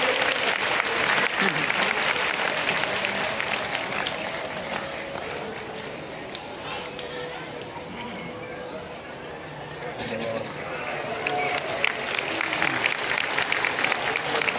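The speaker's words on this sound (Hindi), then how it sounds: "और इनके लिए तो आप डबल तालियां बजाइए" Dense, sustained applause from a big crowd gathered for a Bhagwat religious discourse in Bilaspur, loud and continuous, dipping slightly in the middle before swelling again, with faint chatter mixed into the clapping.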